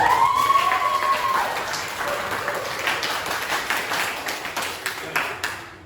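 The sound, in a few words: applause from students in a classroom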